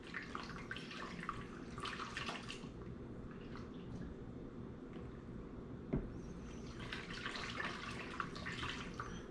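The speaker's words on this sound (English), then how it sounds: "I'm going to swirl it around and it's going to dissolve into the water" Water with yeast sloshes and swirls gently in a container while making pizza dough, with soft splashing and a few drips, fairly close.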